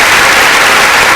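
Applause sound effect played on a morning radio show, a steady dense wash of clapping filling the whole short burst at high volume, with no voices over it.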